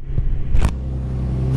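A Nissan 350Z with a modified exhaust idles with a deep, steady rumble and blips briefly to a louder burst, heard close and alone without talk.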